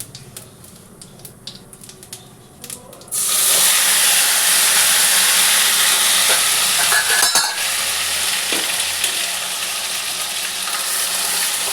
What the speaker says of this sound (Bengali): এতে বন্ধুরা একটু জিরে ফোড়ন দিয়ে দিচ্ছি। এই আদা টমেটোটা দিয়ে দিলাম।